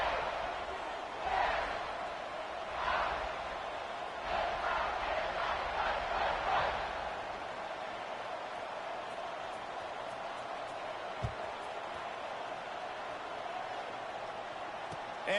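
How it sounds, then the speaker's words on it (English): Stadium crowd buzzing in a college football video game, a loud swell of cheering with several surging bursts over the first seven seconds, then fading to a quieter murmur. "this crowd is buzzing after that last score"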